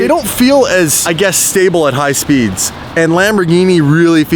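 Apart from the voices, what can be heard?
No everyday noises stand out.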